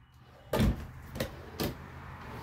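Kitchen drawers and cabinets in a Starcraft Autumn Ridge toy hauler RV opening and closing, three distinct sliding thumps and clunks in quick succession, close and fairly quiet against a faint background.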